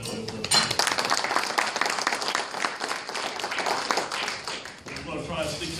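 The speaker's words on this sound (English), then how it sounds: "I want to thank him and give him a round of applause for doing that" A crowd at an airport gathering claps in a dense, continuous round of applause, steady and moderately loud throughout before thinning slightly at the end.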